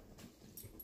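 An excited large puppy whimpers and pants softly for under a second, a faint, breathy sound close to the microphone.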